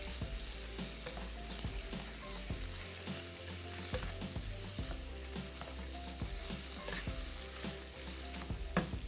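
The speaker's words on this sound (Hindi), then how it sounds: "और अब इसको आपने थोड़ा हाई फ्लेम करके लो से 2 स्टेप ऊपर, 2 लेवल, इसको आपने फ्राई कर लेना है।" Chicken frying in a pan over a raised flame, a steady loud sizzle that runs without a break, with regular clinks and scrapes of stirring throughout.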